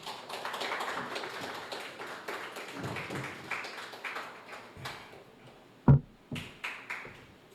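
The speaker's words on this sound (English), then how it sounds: "I don't like the round of applause." A modest round of audience applause at a speaking event, fairly quiet and thinning out into a few scattered, isolated claps and taps before fading.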